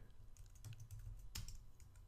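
Fingers type a Linux terminal command on a computer keyboard, a short quiet burst of a few close key clicks in uneven rhythm, with no voice heard.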